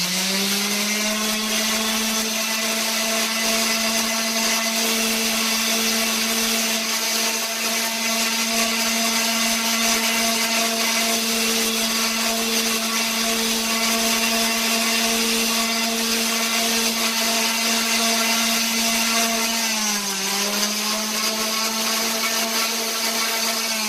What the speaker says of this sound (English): I'm going to use the Power Palm Sander to kind of clean up around here